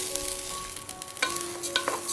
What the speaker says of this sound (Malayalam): മസാലയൊക്കെ ഒന്ന് മൂത്ത് വരുമ്പോൾ അരി ചേർത്ത് കൊടുക്കാം